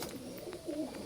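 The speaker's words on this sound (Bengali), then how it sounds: "আমার এই ঘরেও পায়রা ভালো আছে" Pigeons coo softly inside a pigeon house, a couple of low throaty calls rising in the second half over a quiet, steady background.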